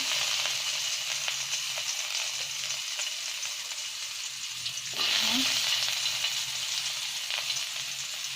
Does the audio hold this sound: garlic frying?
yes